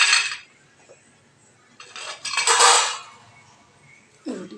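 A metal tawa griddle is lifted and handled on a home kitchen stove before roti frying, giving a few short metallic clanks and scrapes in separate bursts, close and moderately loud, with no talk.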